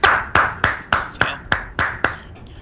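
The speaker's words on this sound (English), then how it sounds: "those are claps" A run of eight sharp hand claps at a steady, fairly quick rhythm, each crisp and close, with a brief soft rustle trailing at the end.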